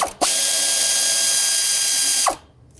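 A hand ratchet breaks free a bracket bolt near the rear valve cover of a 2013-2020 Nissan Pathfinder with the 3.5L V6, giving one loud, close, continuous clicking run of about two seconds.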